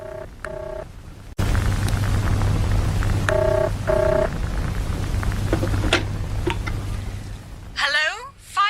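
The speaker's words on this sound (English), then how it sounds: "I picked up the telephone and dialed the number I'd taken from Hanley's file" An old push-button telephone dials a number in a radio drama: two short tone bursts, then a steady hum with steady hiss as several more key tones are pressed, ending in a rising warble near the close.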